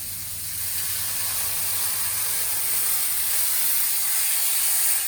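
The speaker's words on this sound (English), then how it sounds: "That's the sound you want to be hearing when you cook steak." A Wagyu fillet steak sears in a smoking-hot pan, giving a loud, steady sizzling hiss that swells slightly and runs on without pause, close up and alone.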